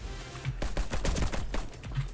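Rapid bursts of gunfire in the video game Warface, close and dense, with several overlapping volleys in quick succession and no talking.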